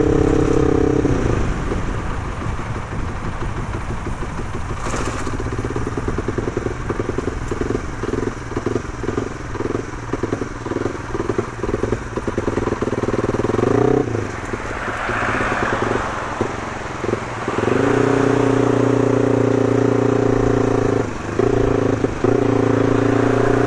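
A loud motorcycle engine running close by, idling with a pulsing throb, then revving and settling back to a steady roar, at a traffic light.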